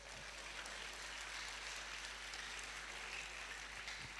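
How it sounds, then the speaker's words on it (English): Lecture audience clapping in a continuous, fairly distant round of applause over a steady low hum, even in level throughout the short stretch. "I thought you would clap for me."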